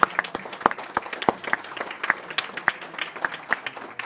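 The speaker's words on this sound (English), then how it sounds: "another round of applause for our golf team" Audience applause at a school board meeting honoring a golf team, a small crowd clapping in a moderately paced, uneven patter of individual claps in an indoor room.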